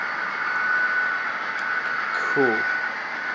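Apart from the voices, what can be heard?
HO scale model train running with sound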